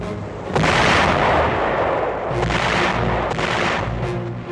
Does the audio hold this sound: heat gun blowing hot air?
no